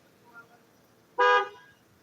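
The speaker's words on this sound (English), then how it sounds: "Quit honking, motherfucker." A car horn gives one short, loud honk, a bright steady toot of about a quarter second. It stands alone against quiet background noise.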